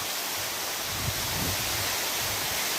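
The perennial Heramb waterfall pours steadily, a dense, even roar of falling water heard up close with no other sounds.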